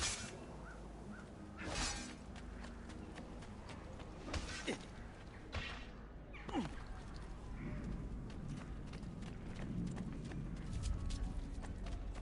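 Horse hooves clip-clop in the Assassin's Creed video game as a character rides, an uneven rhythm of hoof hits under ambient game sound with a few whooshing sweeps, at moderate loudness throughout.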